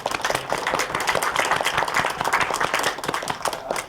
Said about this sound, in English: which totals manual applause